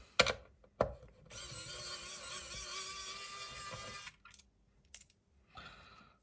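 A small electric screwdriver whirs for about three seconds, backing screws out of the plastic cover of an Xhorse Multi-Prog programmer, with sharp handling clicks and taps before and after.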